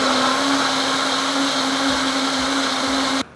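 A blender whirs for a few seconds to mix eggs for a breakfast sandwich, a loud, steady, high motor whine that cuts off abruptly at the end, with no talking.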